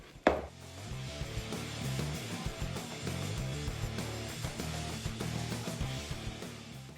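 Smoked salmon dip being stirred together with room-temperature cream cheese in a bowl, a steady run of soft, dense scraping and clacking strokes, fairly close and continuous, with no talking.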